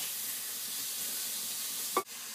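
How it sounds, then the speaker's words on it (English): Burgers cooking in a pan over low heat make a soft, steady sizzle, faint and even throughout, with one brief clunk near the end. "So now that the burgers are sealed over, I'm gonna turn it down to a really low heat and just let these sit and cook slowly."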